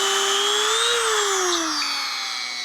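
A Dremel rotary tool grinds a welded plastic fan shroud from a Plymouth Duster, a close, high motor whine that rises and then sags in pitch as the bit bites into the plastic.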